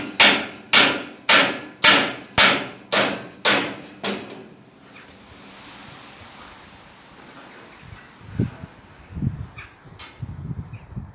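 A hammer taps van body panels into place on a Ford Transit recovery body build, striking about eight sharp, evenly spaced blows. Quieter clanks and thuds of the metal follow.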